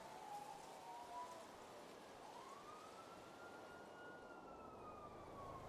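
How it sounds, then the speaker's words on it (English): A distant police siren wails in long, slowly rising and falling sweeps over a steady wash of rain or background noise. "That police sirens going on?"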